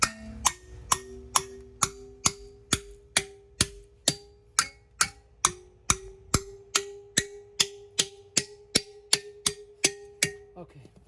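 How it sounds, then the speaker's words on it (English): Hammer blows striking a metal 6x6 post saddle to straighten it, around two dozen sharp ringing metallic strikes in a steady, evenly spaced rhythm, close and loud with no talk. "Let's just straighten it with hammer."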